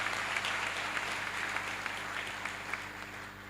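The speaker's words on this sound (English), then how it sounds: "May I request we give the Commandant another resounding round of applause" An audience at a Nigerian Armed Forces Resettlement Centre ceremony gives the Commandant a sustained round of applause, a dense, even clatter of many hands that holds steady and slowly fades.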